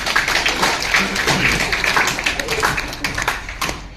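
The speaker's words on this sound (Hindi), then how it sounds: "ताली बजा दो यार।" A roomful of people clap their hands together, a dense, uneven patter of claps that carries on steadily and loudly throughout.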